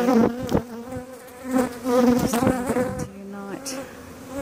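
A swarm of bees clustered in a tree at Blackmans Bay buzzes close and loud, a dense droning hum that swells and dips, with a short spoken phrase heard over it.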